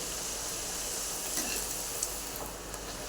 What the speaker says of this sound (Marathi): आता इतरही आपण तळून घेऊया